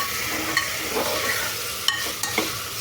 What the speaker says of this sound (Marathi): ते सगळे व्हेजिटेबल्स हे ह्यामध्ये मी कुकरमध्ये घालून घेतले आणि व्यवस्थित ते हलवायचं होतं